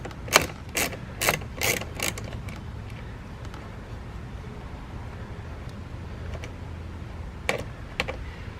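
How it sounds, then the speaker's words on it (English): A 7mm socket ratchet loosening a bolt inside the door of a 2007–2010 Cadillac Escalade while reaching the rear window regulator motor, giving a few quick sharp clicking bursts, then quieter, with a couple more clicks near the end. "7mm socket, and you're just going to loosen that up here."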